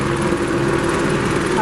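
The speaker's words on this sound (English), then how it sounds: "Pause for helicopter." Helicopter flying overhead at an outdoor pier debate, a steady loud rotor and engine drone filling the whole stretch with no pauses.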